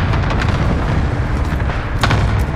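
Cluster strike explosions in Warzone, a dense stretch of rumbling booms with a sharper burst near the end, heard loud and continuous without talk.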